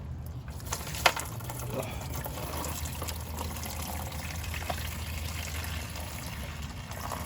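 Coolant spewing and trickling from the radiator of a 1992 Mazda Miata as a screw is loosened, a steady close splashing flow over a low engine-bay hum, with a short grunt from a person.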